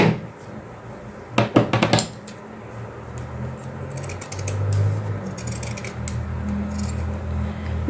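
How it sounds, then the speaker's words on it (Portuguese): Scissors snip through felt while trimming the small hands of an articulated Jesus doll: a quick cluster of crisp close cuts, then softer intermittent clicking and handling noise. "Como é um pouco mais assim, eu vou e corto com essa tesoura."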